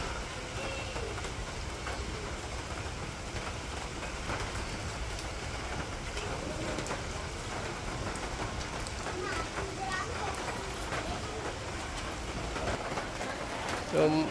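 Rain falls steadily in a village, a constant soft patter and hiss that runs evenly throughout, with faint voices now and then beneath it.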